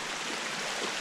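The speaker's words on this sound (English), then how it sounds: "The water's running out of the ground up there." Water runs out of the ground at an old filled-in coal mine, a steady close hiss of flowing water with no other sounds.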